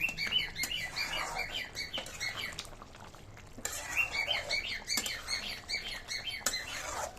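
Several small pet birds chirp and tweet busily in quick bursts, fairly close, with a faint sizzling underneath and a brief lull midway.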